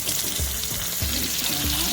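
Fish pieces fry in hot oil inside a Lodge cast iron Dutch oven, a steady loud sizzle with a few short clinks and shuffles as tongs flip the fillets.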